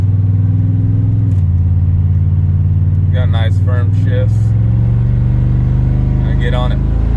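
A twin-turbo GMC truck with a new torque converter cruises with a loud, steady engine rumble inside the cab, shifting gears with a firm drop in pitch; someone talks briefly over the drone.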